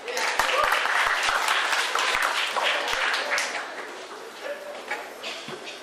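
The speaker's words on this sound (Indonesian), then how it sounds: "Tepuk tangan." Applause from polytechnic students at a campus discipline orientation, a burst of loud clapping with distinct sharp hand claps early on, thinning and fading into murmuring crowd voices by the end.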